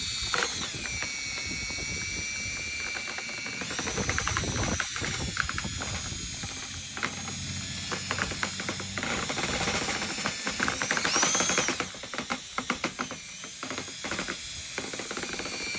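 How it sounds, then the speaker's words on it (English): A Level 5 mini mixer on a drill churns joint compound right in the pan for a ceiling speaker-hole repair, a loud, continuous whirring and grinding that rises and falls in bursts. "I'm going to thin it down a little bit with my level 5 mini mixer and mix your joint compound right in the pan."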